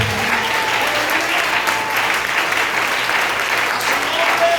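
A church congregation bursts into loud, sustained applause that fills the space for several seconds, dense clapping from many hands with voices mixed in.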